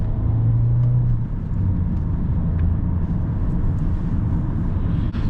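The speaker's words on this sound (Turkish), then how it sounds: "Bak, bu şekilde gazlamaları çok fazla yapıyorum arkadaşlar." A Volkswagen Passat 1.4 TSI petrol car driven through Istanbul city traffic, its engine giving a steady, close rumble for about five seconds with no talking.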